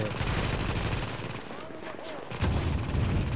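Rapid automatic gunfire in The Division's Dark Zone, loud and continuous in bursts with a brief lull midway, under a player's talk.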